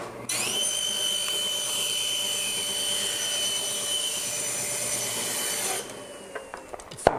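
A piece of scrap wood is trimmed to size with a power tool, making a loud, steady, high whining cut that runs for about five and a half seconds and then stops abruptly, followed by a few faint knocks.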